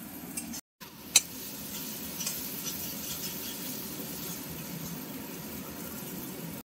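Masala spice paste for Bombay duck curry fries in oil, a quiet continuous sizzle with a brief pause and a single sharp clink near the start.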